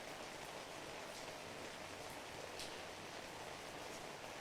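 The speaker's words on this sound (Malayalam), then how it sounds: "കോഴിക്കോട്ട് മഴയാണ്." Steady rain pours down in Kozhikode in a dense, even hiss with no voices, constant and fairly close throughout.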